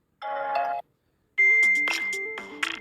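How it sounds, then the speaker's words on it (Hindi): A Samsung Galaxy M-series phone plays a ringtone preview: a short chime, a pause, then a bright repeating electronic melody with a stepping bass line, clear and close with no talking. "और जो भी आपका रिंगटोन है दोस्तों वो सेलेक्ट हो जाएगा और वो रिंगटोन सेट हो जाएगा"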